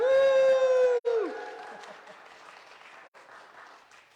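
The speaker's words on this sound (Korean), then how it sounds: "우리 박수로 환영하겠습니다" Audience applause welcomes a visiting pastor at a church revival meeting in Huntsville. A loud burst of clapping and crowd noise opens after a brief sustained tone, then settles into steadier, softer applause that continues to the end.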